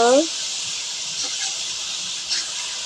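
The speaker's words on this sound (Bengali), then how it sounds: "হলুদের গুঁড়া মরিচের গুঁড়ো সবগুলো দিয়ে দিলাম কমপ্লিট এবার মশলাটা একটু কষিয়ে নেব" Turmeric and chili powder fry in hot oil for a bottle gourd fish curry, giving a steady, even sizzle throughout, with a short voice heard at the very start.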